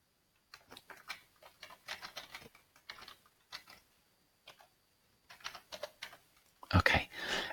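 Quiet, irregular key clicks as a password is typed on a computer keyboard, short bursts of taps with pauses, close and soft, ending in a few louder keystrokes.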